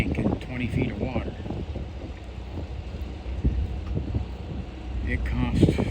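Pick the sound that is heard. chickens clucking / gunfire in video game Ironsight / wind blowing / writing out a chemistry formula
wind blowing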